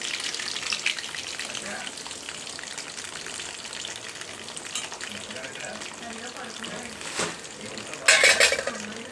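Large fish pieces fry in hot oil with a steady, loud sizzle throughout, and a spoon or pan clatters briefly near the end.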